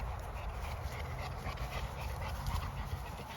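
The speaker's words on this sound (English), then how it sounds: "these dogs are running like they never skipped a beat" Cane Corso dogs pant steadily and close, a continuous breathy rasp with faint whimpers over a low background rumble.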